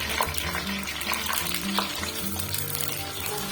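Ginger garlic paste fries with whole spices in a pan, giving a steady, close sizzle with spoon stirring and scraping sounds throughout.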